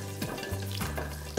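Whole garlic cloves and red and green chilies fry in a pan for a brief moment, with a soft sizzle under a low steady hum and a few faint stirring scrapes.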